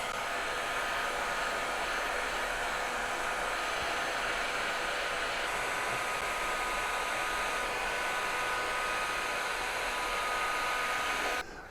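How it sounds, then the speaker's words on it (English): A heat gun blows steadily on an epoxy countertop, a loud, constant hiss of rushing air that holds for about twelve seconds before cutting off abruptly at the end. "The heat gun."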